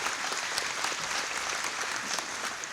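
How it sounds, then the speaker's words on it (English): Steady applause from a luncheon audience, dense clapping that holds at an even level throughout, with no voices over it. "Can I have a round of applause for Grace, please?"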